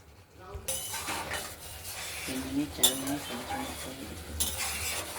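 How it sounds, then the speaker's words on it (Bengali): Potatoes and spices sautéing and stirred in a pan for a paneer fritter curry, with a steady sizzle under repeated scraping and clinks of a utensil against the pot, close up; a voice talks faintly in the background. "পনিরের বড়া আজকে ঝোলটা যে তৈরি হবে সেই আলু আর মশলা দিয়ে কষানো চলছে"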